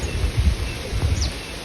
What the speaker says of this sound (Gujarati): આજે પવન કેટલો છે તમને બતાવું